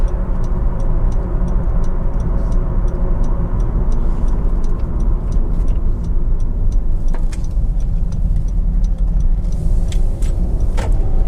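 A Honda Civic 1.6 i-DTEC EX five-door hatchback rolls along with a steady low road and engine rumble, while sharp clicks and light knocks come through as the suspension passes over bumps, several louder thumps near the end.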